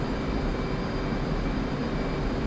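F/A-18C Hornet jet engine in the DCS flight simulator, a loud, continuous broadband roar with no breaks.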